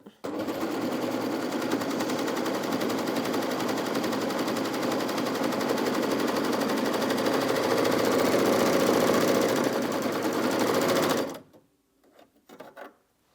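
Bernette b68 Airlock overlocker running fast and steadily while sewing a seam, with a dense, even mechanical whir that continues for about eleven seconds and then stops abruptly, followed by faint handling noises.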